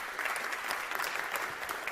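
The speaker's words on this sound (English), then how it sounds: "So let's give a round of applause to Vineet." Audience applauding a guest at a university talk, a steady, dense burst of clapping throughout with no speech over it.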